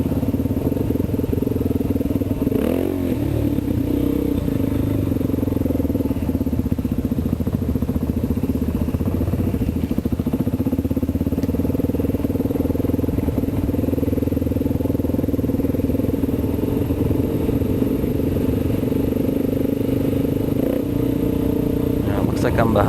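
Kawasaki KLX dirt bike riding a narrow trail and wheelieing over a small spring crossing, its engine droning steadily and close throughout with a few clattering bumps, while a voice talks over the top.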